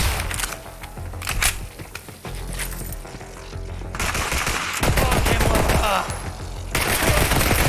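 A small gun fires in Borderlands 3, with rapid volleys of shots rattling in repeated bursts amid other game sounds, growing denser and louder in the second half.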